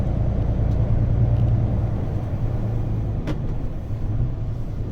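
A delivery truck driving along lakeside roads, a steady loud low engine rumble and road noise from inside the cab, continuous and even throughout with no talk.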